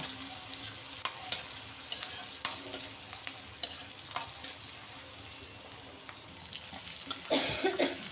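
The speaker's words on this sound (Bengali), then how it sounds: "এখন পেঁয়াজ দেব পেঁয়াজ দিয়ে ভালো করে ভেজে পেঁয়াজটা ভালো করে ভাজব" Onions frying in a pan for a home-style Bengali dish, with a steady broadband sizzle and irregular scraping stirs throughout, ending in a louder burst of frying near the end; no talk.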